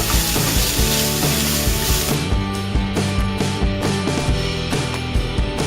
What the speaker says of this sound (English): We will add the salt, sugar, some black pepper. Give it a good stir.